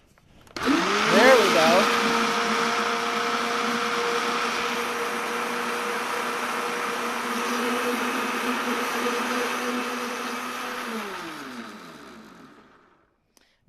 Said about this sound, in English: Now you blend them just enough to get a little air in them